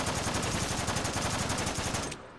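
Rapid automatic blaster fire from a base weapon in a video game, a dense rattling burst of shots at steady rhythm, loud and close, cutting off abruptly near the end.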